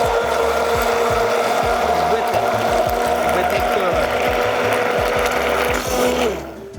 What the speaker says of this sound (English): Take the immersion blender, put it down in.